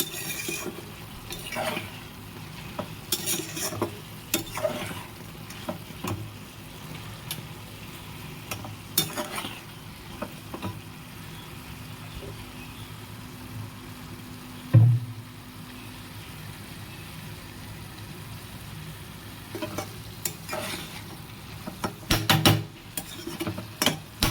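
A spoon stirs bot (tripe) in a pan on a high gas flame after garam masala powder is added, with a soft continuous sizzle and occasional scraping and clinks of utensil against metal, close and quiet.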